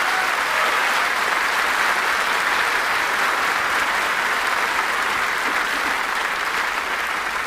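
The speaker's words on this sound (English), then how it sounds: "would you please give a round of applause for these young people?" Sustained applause from an audience at a Veterans Day event, a dense, steady wash of clapping that holds loud and even for the whole stretch with no talk over it.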